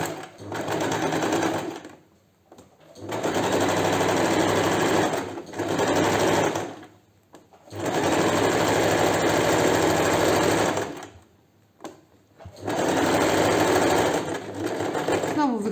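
A sewing machine stitching a side seam pocket runs in four loud, close bursts of rapid whirring, separated by short pauses, with a person talking in between.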